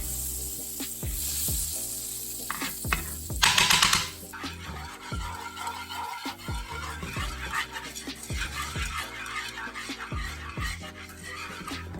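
Butter melting in a pan while a quick chicken pesto casserole is made, with a steady soft sizzle, a sharp hiss burst early on and repeated light taps and clinks of a utensil against the pan throughout.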